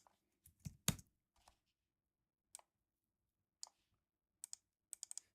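A number is typed on a computer keyboard, giving sparse, sharp key clicks: a small cluster near the start, then single and paired taps spaced out, faint and close in a quiet room.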